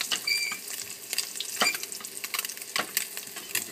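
Tilapia pan-searing in hot oil over medium heat, a close crackling sizzle with sharp spits and pops spread unevenly across the whole stretch.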